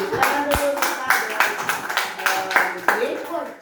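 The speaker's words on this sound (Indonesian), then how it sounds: "tepuk tangan untuk kelompok 2" A class of schoolchildren clap for a student group in a primary classroom, a rapid run of sharp hand claps spread across the clip, close and fairly loud, with voices mixed in.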